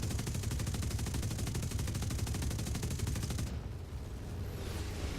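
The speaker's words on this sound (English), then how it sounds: "Trying to get a ground kill with my guns." Aircraft machine guns fire in the War Thunder video game during a strafing run on a ground target: a dense, rapid, loud stream of shots for about three and a half seconds, then an abrupt stop leaving a steady engine-like rumble.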